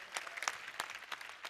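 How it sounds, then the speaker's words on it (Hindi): Light, sparse hand clapping, faint and a little distant, with irregular claps from a small group at a religious festival event. "फिर से जोरदार तालियां उनके लिए"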